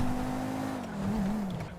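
A car in a GTA roleplay server drives with a steady engine drone whose pitch dips and wavers, moderately loud and close, without any speech.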